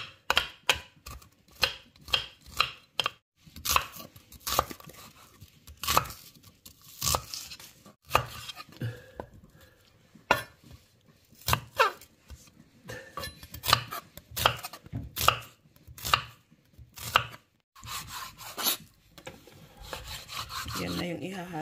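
Garlic being chopped with a knife on a wooden cutting board, a rapid series of sharp, close knocks with short pauses between bursts.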